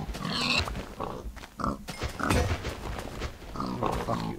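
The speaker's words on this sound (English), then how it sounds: "Oh my god, pigs!" Pigs in the video game Minecraft giving short, repeated oinks and grunts, several in quick succession, close and fairly loud with no talking over them.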